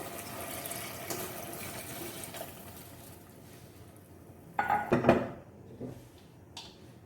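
About a cup of water runs and splashes into a pot of arvi gosht masala for a few seconds, with a louder burst of pouring near the end amid faint kitchen clatter.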